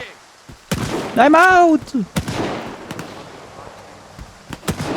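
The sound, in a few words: gunfire in video game S.T.A.L.K.E.R. 2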